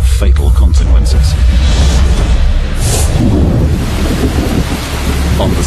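A typhoon thunderstorm strikes Luzon with heavy rain, deep rolling thunder and a loud roar of downpour and wind filling the scene from start to finish.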